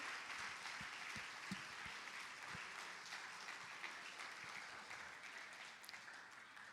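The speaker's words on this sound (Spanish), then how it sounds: "Vamos a darle una ofrenda de palmas al Señor" A church congregation claps together as an offering of praise to God, a steady, sustained round of applause with a few sharper individual claps, fairly quiet and distant.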